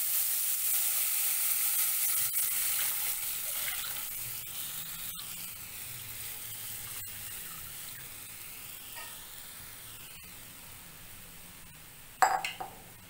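Farali kadhi made with singhoda (water chestnut) flour sizzles steadily in a pan over a gas flame while it is stirred. A continuous close hiss fades slightly, then a brief clatter comes near the end.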